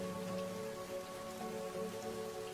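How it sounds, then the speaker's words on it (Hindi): Steady heavy storm rain patters on a surface, a dense continuous hiss with droplets, fairly quiet throughout. "ये बारिश तो और ज्यादा बढ़ रही है"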